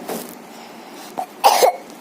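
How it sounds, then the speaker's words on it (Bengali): A few close coughs: a softer cough near the start, a short one around the middle, then a louder, harsher burst of coughing toward the end, with no talking in between. "আমার কাশি বেশি বেশি উঠছে"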